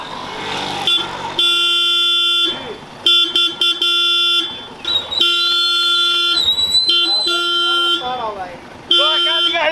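A vehicle horn honks in long sustained blasts on a road, repeated several times across the stretch with brief breaks, loud and close, while people talk over and between the honks.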